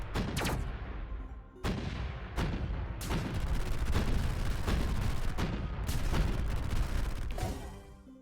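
Bomber spaceships in the space battleship game Sublight unleash a continuous barrage of rapid blasts and explosions, loud and dense, with brief gaps between heavy volleys.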